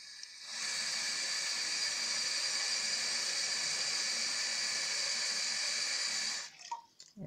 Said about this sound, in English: You just pour water into it.